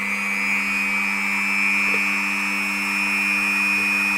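A Dremel rotary tool mounted in a high-speed bench drill stand runs unloaded at its low speed setting, a steady, close, continuous motor whine with a constant pitch and no voices.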